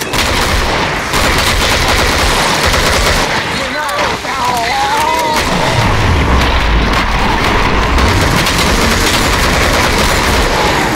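Dense, loud gunfire from the Killing Floor video game on the Abusement Park summer sideshow map, rapid automatic bursts and booms layered continuously, with a voice calling out briefly amid the shooting.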